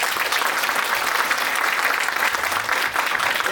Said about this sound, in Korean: 네 분께 큰 박수 부탁드립니다.